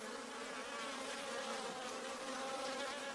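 A dense, steady buzzing of a wild honey bee colony, close and continuous, with no pauses or voices.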